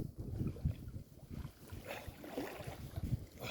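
Sizable waves wash and slap against the shore of Zamkowe lake in winter, a low churning rumble with irregular splashes under wind noise close to the microphone.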